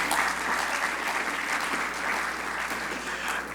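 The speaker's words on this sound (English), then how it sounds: "can we give them another round of applause" Sustained audience applause at a global energy forum's closing ceremony, a dense, steady wash of many hands clapping at even loudness throughout, with no speech over it.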